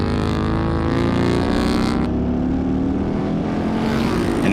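Bagger racing motorcycles on a Las Vegas track roar past in a loud, dense rush of engine noise, the pitch dropping after the pack passes close by, with no voices.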